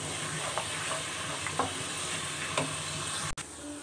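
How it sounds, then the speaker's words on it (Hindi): Garlic paste and ginger paste sizzle steadily in hot oil as they brown for a chickpea curry, a continuous close frying hiss broken by a few soft stirring scrapes. "गार्लिक पेस्ट और जिंजर पेस्ट को अच्छे तरीके से गोल्डन गोल्डन जो है हम ब्राउन कर लेंगे यानी सौते कर लेंगे"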